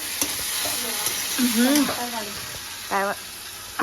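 Dal frying in a pan, a steady broadband sizzle with stirring scrapes, while a voice talks over it in bursts.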